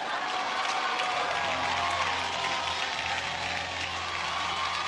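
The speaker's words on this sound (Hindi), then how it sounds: "तालियां होनी चाहिए" A television comedy show's studio audience claps and cheers in a dense, continuous wash of applause, loud and steady throughout, with crowd noise mixed in.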